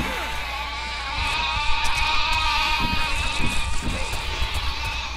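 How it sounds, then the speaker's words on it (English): Sheep in the video game Overlord: Raising Hell bleat repeatedly over game music and effects, several wavering cries overlapping in the mix. "Have fun killing all these sheep!"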